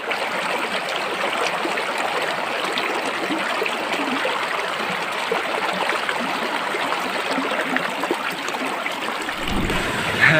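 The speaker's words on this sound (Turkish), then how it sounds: "Ziyaretimizde küçük bir şelale var arkadaşlar." A small waterfall on a natural spring stream pours in a steady, loud, close rush of splashing water that stays constant throughout.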